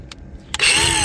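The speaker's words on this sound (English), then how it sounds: "let's take the grinder while I got plenty of batteries and do some grinding" A battery angle grinder starts up after two short clicks and then whines loudly and steadily as it grinds a boat's bowsprit, close at hand.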